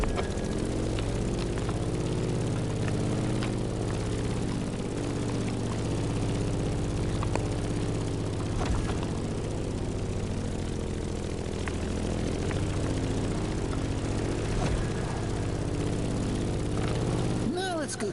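A propeller plane's engine drones steadily and loudly throughout, a constant low hum with a smooth, unbroken tone, while a person talks over it.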